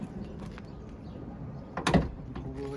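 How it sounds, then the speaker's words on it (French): A camper van's rear sliding door slides along its track in one quick burst and thuds shut, fairly close, against a quiet background. "Donc la porte arrière coulisse."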